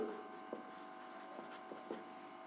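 Pen or marker writing out an area calculation on paper or a board, a soft continuous scratchy rub with a few brief taps and strokes, close and quiet, with no talking.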